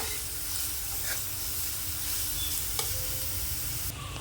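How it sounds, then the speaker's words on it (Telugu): Grated carrot being mixed in a frying pan for a ponnaganti greens fry, a steady, moderately loud sizzle with a few faint scraping stirs and no talking. "క్యారెట్ తురుమును వేసుకోవాలి ఇప్పుడు బాగా మిక్స్ చేసుకోవాలి"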